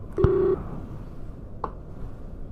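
A telephone call rings on the line: a single loud tonal burst of ringback near the start, then a faint short blip about a second later over low line hiss.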